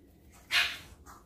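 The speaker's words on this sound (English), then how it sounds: "My dogs are fighting in the background." Dogs scuffle in the background with a brief growling, yelping burst in the middle of the clip and a softer yip after it, faint and somewhat distant in a quiet room.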